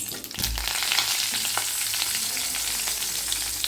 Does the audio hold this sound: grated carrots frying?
yes